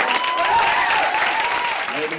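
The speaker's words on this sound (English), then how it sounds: "Everybody clap your hands." A crowd applauds steadily at a school athletics competition for a pom dance team, dense clapping filling the space without a break while a voice carries over it.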